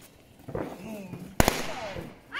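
A single sharp firework blast cracks out loud and close on New Year's night, preceded by faint rustling and followed by people speaking nearby outdoors.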